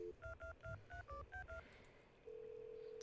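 Telephone keypad tones during a call, about eight quick beeps in an uneven sequence, followed by a steady ringing tone, faint and with no talking.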